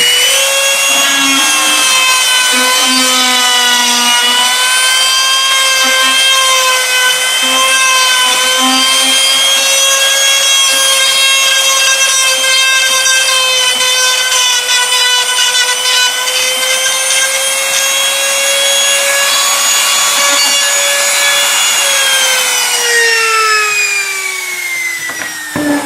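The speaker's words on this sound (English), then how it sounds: "Start the trimmer, place it in the centre of the hole in your jig." Trim router cutting a door hinge recess in wood, guided by a hinge jig: a loud, high, steady motor whine holding one pitch while the bit chews into the wood, dropping in pitch near the end as it winds down.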